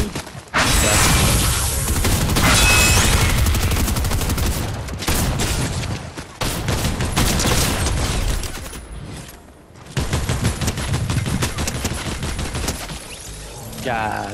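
Gunfire crackles in a shooter video game, with dense bursts of rapid automatic fire and crashing impacts that fill most of the stretch, broken by a couple of brief lulls.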